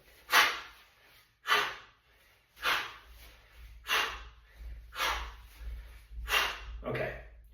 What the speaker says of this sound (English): For sport style, we breathe out on that backswing, we breathe out on the catch in the rack position.